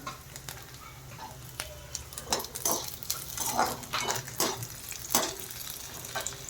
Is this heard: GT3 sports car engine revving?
no